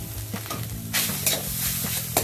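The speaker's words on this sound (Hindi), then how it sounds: "तो इसी में हम ये नारियल डाल देते हैं, और साथ साथ में हमने गुड़ भी डाल देते हैं" Grated coconut and jaggery being stirred in a hot pan for fried modak stuffing, a steady low sizzle with scraping spoon strokes, close and fairly loud, with no voices.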